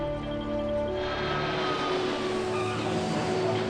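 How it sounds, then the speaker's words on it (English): Qantas passenger jet on final approach into Melbourne, lining up for runway 16 after a morning flight from Sydney; a loud, steady engine roar with droning tones holds throughout, with no voices. "Qantas 401's final approach into Melbourne."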